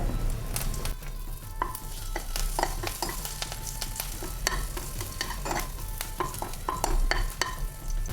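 Steady crackling and popping of mustard seeds and curry leaves sizzling in hot oil while making rasam, with sharp bursts scattered throughout.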